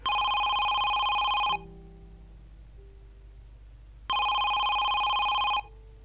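A telephone rings inside the horror game Home Sweet Home: two loud, electronic trilling bursts, each about a second and a half long, separated by a quiet gap of low room tone.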